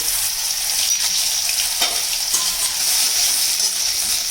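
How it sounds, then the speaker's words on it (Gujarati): Cumin, asafoetida and ginger sizzle and crackle steadily in hot oil for a chana chaat masala, a close, continuous frying hiss with a few soft stirring scrapes. "હવે આપણું જીરું તતડી ગયું છે તેમાં આપણે થોડીક સ્વાદ અનુસાર હિંગ એડ કરીશું"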